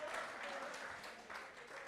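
Quiet, continuous applause from a seminar audience cheering volunteers as they come forward, a soft even wash of clapping with a voice faintly audible underneath.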